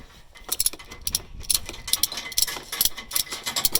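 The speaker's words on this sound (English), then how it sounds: "I always use ratcheting straps." A ratcheting tie-down strap being cinched down to secure a dirt bike for loading, a rhythmic series of sharp clicking ratchet pulls repeating quickly and up close, with no voices.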